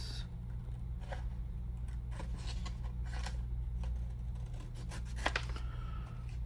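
Scissors snipping through paper to cut out a small drawing, with a few quiet, irregular cuts and soft paper rustles over a steady low background hum.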